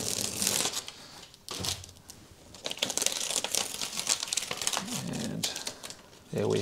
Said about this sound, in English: We'll remove all this tape first.